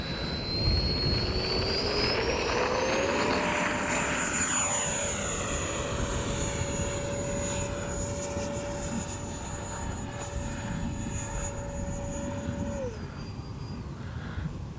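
A small 64mm electric ducted-fan model F-22 jet whines steadily overhead, its pitch rising and sweeping as it passes, then dropping off near the end, with no voices.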